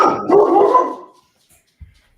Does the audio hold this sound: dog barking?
yes